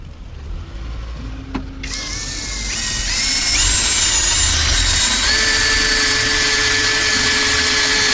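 A Procraft PA 18 cordless drill fitted with a 6 mm AliExpress bit drills into metal, a whining motor spinning up after a brief click and then holding loud and steady with shifting tonal squeals from the bit.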